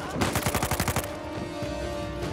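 A rapid burst of automatic gunfire from the video game Uncharted 4: A Thief's End, about a dozen quick shots, followed by a lingering noisy rumble.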